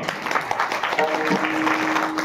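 Audience clapping at a humorous Marathi kirtan, a steady wash of applause lasting a couple of seconds with a faint held tone underneath, fairly close.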